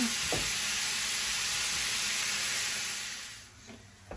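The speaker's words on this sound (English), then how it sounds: "I'm just gonna saute this all up until the bacon's nice and crispy and the chorizo has cooked and broken down." Bacon and chorizo sauté in a pan, giving a steady, close frying sizzle with a soft hiss that runs throughout. A few light stirring clicks come in near the start, and the sizzle eases off toward the end.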